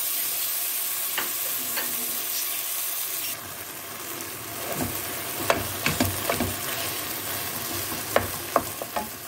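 Peeled charred tomatoes and onion are added onto flour and tomato paste toasting in a soup pot, giving a steady close sizzle with scattered sharp stirring clicks and pops toward the end.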